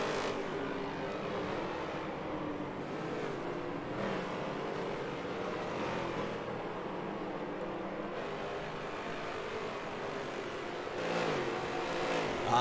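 Race cars in a Forza spec racing series event roar around the track, a steady dense engine drone with shifting revs and overlapping cars throughout, no talk.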